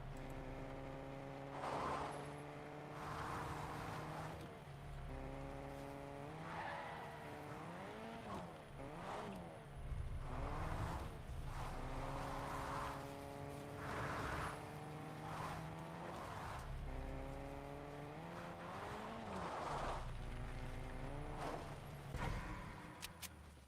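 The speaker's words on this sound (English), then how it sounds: "Light CK is traveling in a pimped up taxi." A souped-up taxi with flashy wheels driving in Fortnite, its engine droning steadily with rising and falling pitch as it shifts through gears, with faint tire noise throughout.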